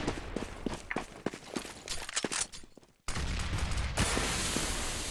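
Gunfire in the video game CS:GO: a rapid burst of sharp shots mixed with footsteps, a brief drop to near silence, then a dense, loud sustained wash of fire.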